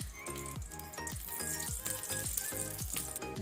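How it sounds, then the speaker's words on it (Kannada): Two tablespoons of ghee sizzle and crackle in a hot pressure cooker, a steady frying hiss with recurring rattling clicks, close and moderately loud. "ಕುಕ್ಕರ್ ಬಿಸಿಯಾಗಿದೆ. ಈಗ ಅದಕ್ಕೆ ತುಪ್ಪ ಗೀ 2 ಟೇಬಲ್ ಸ್ಪೂನ್."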